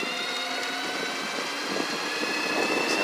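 A CYC X1 Pro e-bike motor with a BAC 855 controller revs steadily, a continuous whirring whine with a faint mechanical rumble underneath, holding even in level throughout.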